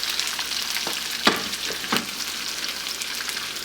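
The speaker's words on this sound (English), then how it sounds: "So just a bit saute for a few seconds, and now we'll add our onions." Onions sauté in a pan over medium-high heat, giving a steady close sizzle with a couple of sharper spatula scrapes and knocks, no talk.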